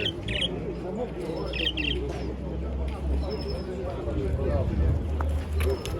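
Short, high chirps and tweets from caged birds at a pigeon and domestic animal market in Dnipro, scattered over a dense murmur of voices and low background rumble.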